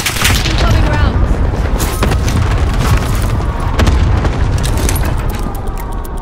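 Allied cluster strike in Call of Duty Modern Warfare, a rapid string of heavy booming blasts mixed with crackling gunfire, loud and dense throughout, with voices talking underneath.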